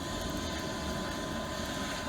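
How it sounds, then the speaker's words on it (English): Leaf blower hooked up to a homemade rocket stove waste oil burner for a steam boiler, giving a steady, loud broadband roar of rushing air and flame with no pauses. "Yeah, I might hook up the leaf blower."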